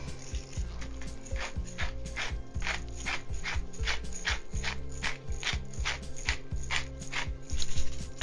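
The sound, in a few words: grinding fresh pepper with a pepper mill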